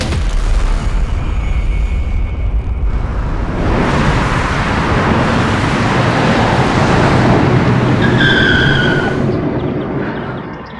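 A car being driven with tires skidding: a loud, sustained roar of engine and road noise with a squealing tire screech near the end, no talk.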